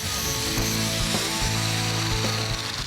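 Flap wheel on an angle grinder cleaning up the sheet-metal panel edges of a truck cab during a 3-window to 5-window conversion, a steady loud whirring grind with a few slight bumps in pitch, heard alone.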